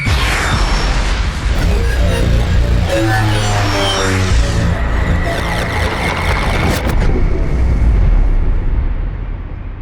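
Sci-fi spaceship gun opening fire in an audio drama, a loud sustained blast of booming discharges with sweeping, warbling energy tones rising and falling over several seconds before ringing off into a bright hum.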